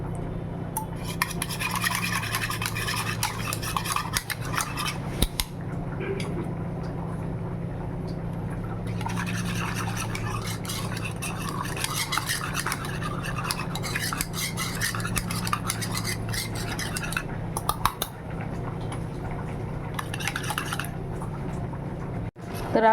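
Yogurt and besan batter for Maharashtrian kadhi being whisked in a bowl: a steady, close scraping and swishing that runs continuously, with a few brief clinks of the utensil.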